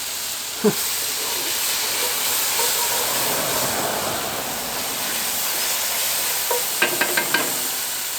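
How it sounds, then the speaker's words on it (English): Mushrooms, onion and garlic frying in a camp pan outdoors, a steady broadband sizzle and hiss throughout, with a few sharp clinks of a utensil against the pan near the start and end. "So we're going to let these mushrooms with the onion and the garlic cook down now for about 5 minutes or so."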